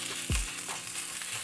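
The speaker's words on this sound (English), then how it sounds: "We're just gonna be moving around the tomatillos until they're grilled on each side." Tomatillos and garlic grilling in a hot pan, a steady close sizzle broken by a few quick scraping stirs as they are moved around.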